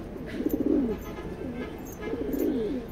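Racing pigeons in a pigeon loft, a white racer and a white grizzle, coo nearby in two clear rolling bursts separated by a short pause.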